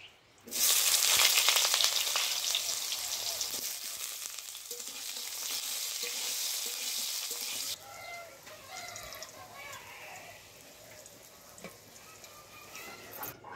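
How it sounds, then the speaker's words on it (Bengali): Eggplant drops into hot mustard oil in a pan and sets off a loud, crackling sizzle. The sizzle fades to a softer, even fry partway through, with faint chatter and kitchen sounds in the background. "সর্ষের তেল দিয়ে বেগুনটা ভেজে নেব"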